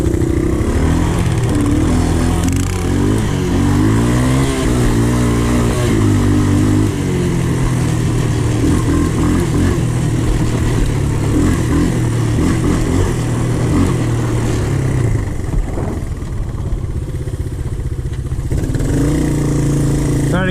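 Honda TRX450 and TRX125 ATVs race in the snow, their engines revving and droning continuously near and loud, pitch climbing and dropping through the laps, with voices speaking over the noise.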